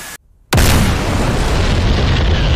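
Bombs from a jet hitting buildings in the DCS flight simulator, in a reenactment of the 2013 Lahad Datu incident: a brief hush, then an abrupt, very loud booming blast whose dense roar sustains to the end.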